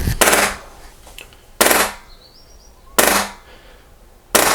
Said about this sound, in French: Et là, ça va lancer un cycle de 3 tirs en fait, regardez.